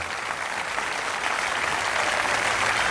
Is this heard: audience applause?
yes